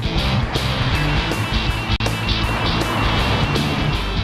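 A Holden Monaro with a 5.7-litre, 260 kW engine and four-speed automatic drives along, giving a loud, steady engine drone mixed with road rumble that holds for the whole stretch, with no voices.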